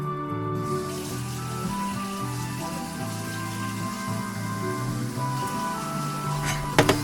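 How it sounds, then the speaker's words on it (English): Water is splashed into dry instant noodle burrito mix made with Mr. Noodles ramen; a soft, steady watery patter runs throughout, partly masked by background music. "we might need some more water in here."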